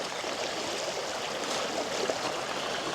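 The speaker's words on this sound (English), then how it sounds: "More moving water." Moving water of a stream flows in a steady, even rush with no pauses, close and fairly quiet, with no voices over it.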